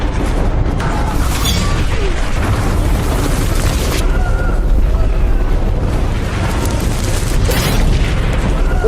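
Heavy booming bomb and artillery blasts roll through a dense, loud rumble, with repeated bursts and crackling debris sounds throughout, in a World War II American-Japanese battle scene.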